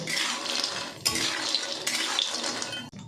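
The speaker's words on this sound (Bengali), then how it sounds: "তেলটা গরম হতে এখানে দিয়ে দিলাম সয়াবিন। এরপর সয়াবিনটাকে একটু ভালো করে ভেজে নেব।" Soya chunks frying in hot oil in a pan, a steady broad sizzle with clinking of a spoon against the pan as they are stirred, close and fairly loud with no talking.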